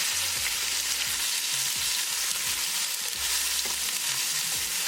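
Garlic, ginger and green chili fry in hot olive oil with cumin: a loud, dense, continuous sizzle close by, broken up by repeated low stirring knocks against the pan, with no talking.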